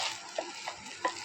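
Rice being fried in a pan over low heat for pulao, a soft continuous sizzle with a few light scraping stirs, faint and close.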